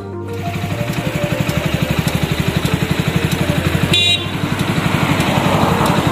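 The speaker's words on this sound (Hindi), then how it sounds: "बाइक की हालत ख़राब हो गई चढ़ते पहाड़ में" A motorcycle climbs a mountain road near Mount Abu, its engine chugging loudly and close in a fast, steady pulse, with a brief horn honk partway through.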